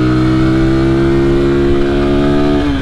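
A motorcycle engine roars loud and close while climbing a hill after a downshift. A steady, strongly harmonic drone holds for nearly three seconds before the pitch shifts at the end, with no voices.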